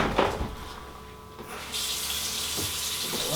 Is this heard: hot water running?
yes